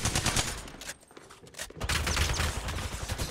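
Rapid gunfire bursts from a firefight in Apex Legends, loud and near, with a short lull midway before heavy sustained shooting resumes.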